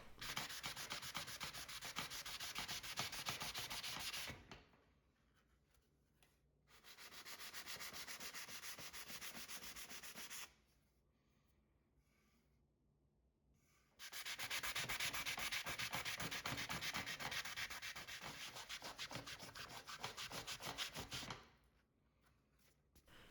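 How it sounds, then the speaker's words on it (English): Sanding pad rubbing over chalk-painted furniture, in three long bursts of steady, loud, close scratchy friction broken by short pauses. "Chalk paints are known for being easy to sand and they powder when they're sanded."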